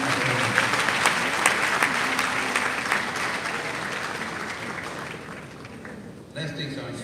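A conference audience at a bar association gathering claps together in a dense, sustained round of applause that gradually fades toward the end.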